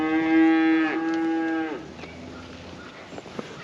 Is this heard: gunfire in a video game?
no